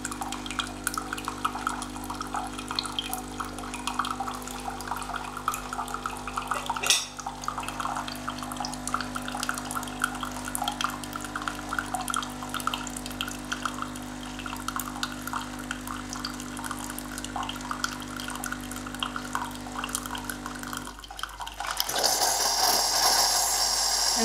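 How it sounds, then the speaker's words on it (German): Hot water running through a Tassimo Joy coffee machine, a steady pump hum with gurgling, trickling flow for about twenty seconds, then a louder hissing spurt near the end. "So, jetzt läuft einfach einmal heißes Wasser dadurch."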